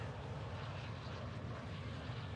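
An airplane drones overhead in the video game Call of Duty: Warzone 2.0, a steady low engine rumble holding constant throughout, faint and without voices.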